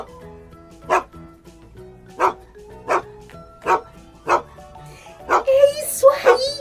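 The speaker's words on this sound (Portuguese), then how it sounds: "É do cachorro!" A dog barks about seven times in sharp, evenly spaced single barks, each loud and close, followed by a denser burst of yips and bright tones at the end.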